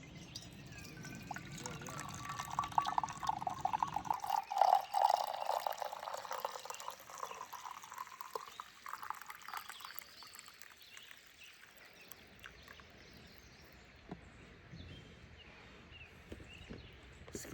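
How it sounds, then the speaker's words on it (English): Coffee poured into a cup outdoors beside a river on an off-grid trip, a steady liquid stream lasting several seconds, its filling tone rising as the cup fills, with soft outdoor ambience around it. "So let's pour ourselves some coffee."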